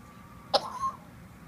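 A single short cough, close and fairly loud, against a quiet background.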